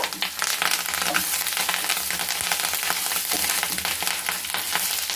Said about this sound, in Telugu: కరివేపాకు వేసాక ఎక్కువసేపు వేగనివ్వద్దు.